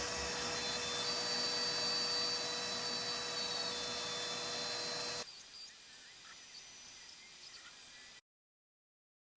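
An Altmill CNC router with a 1/4 inch upcut bit pockets out stripes in a continuous, loud high whine, then drops to a quieter hum before cutting to silence.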